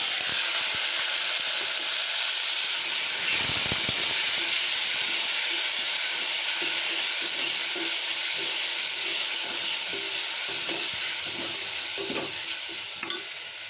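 Rice and moong dal fry in oil with a continuous loud hissing sizzle, steady throughout, with occasional faint stirring scrapes and no speech.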